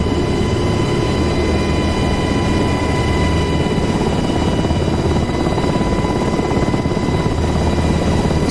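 Helicopter in the DCS World flight simulator on the Persian Gulf map, a steady loud rotor and turbine drone with constant whine tones, continuous throughout with no speech.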